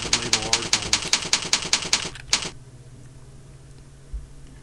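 Keys on a computer keyboard clack in a fast, steady run of about a dozen close strokes while a search query is typed, then stop and leave a faint hum.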